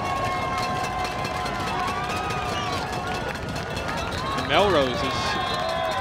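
Football crowd at the Melrose vs Wakefield Thanksgiving Day high school game, a steady roar of cheering from a large outdoor crowd with whistles and shouts, under an announcer's voice calling the play.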